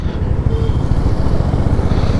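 A motorcycle engine drones loudly and steadily from up close while riding on the road, with a constant buzzing rumble and rushing wind.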